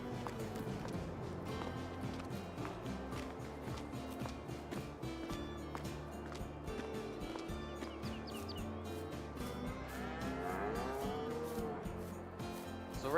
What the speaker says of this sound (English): So these are all our milking cows.